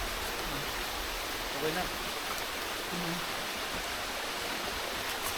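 Water rushes steadily from a freshly unclogged supply line after sand was cleared, a constant hissing flow with a few brief voices speaking over it.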